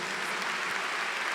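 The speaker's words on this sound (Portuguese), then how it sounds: "Aplauda essa palavra" A church congregation applauds in a steady, dense wash of clapping at moderate volume, a short unbroken burst with no talking.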